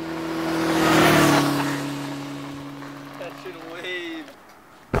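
A voice mimics a scooter engine hitting the gas, a long rising and falling buzzing drone that swells loudly then trails off near the end, with no other talk alongside it.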